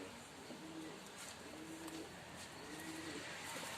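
Pigeons in a coop cooing in low repeated phrases, several rounds in a row, over a busy background of rustling and flutter.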